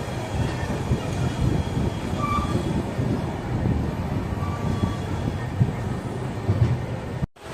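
A Tirupati–Chennai express train pulling into Chennai Central station rumbles steadily along the rails with a continuous low roar and occasional faint squeals, ending in an abrupt cutoff.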